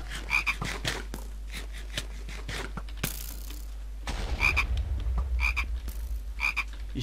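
Toads croaking in the Minecraft video game, a modded Pixelmon survival world: repeated short croaks in a steady rhythm, clear and fairly close, over a low background hum with a brief burst of noise in the middle.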